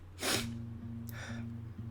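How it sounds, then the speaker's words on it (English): A single sharp sneeze bursts out close by, followed by a softer breathy sniff, over a faint steady hum. "why did that make me have to sneeze?"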